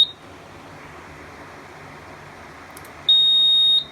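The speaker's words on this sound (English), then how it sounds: "the NACS will sound for 6 seconds each time we activate it." During a walk test of a bedroom fire alarm system, the notification appliances sound: a steady, loud high-pitched electronic tone cuts in near the end and holds for under a second over faint room hum.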